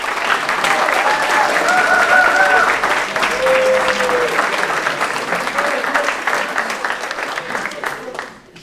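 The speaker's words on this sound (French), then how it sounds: "je pense qu'on peut les applaudir" An audience at a Kino Grenoble live film event applauds the founders, a loud continuous burst of clapping with a few cheers and voices mixed in, gradually tapering off at the end.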